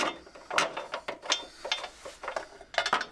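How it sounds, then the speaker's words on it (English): A ratchet with a 16mm socket spins bolts onto the front subframe of a BMW MINI R50/R52/R53, giving short, quiet bursts of clicking with small gaps between them, close by and without voices. "So I'll spin those on with a 16mm socket"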